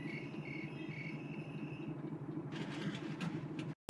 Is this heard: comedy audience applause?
no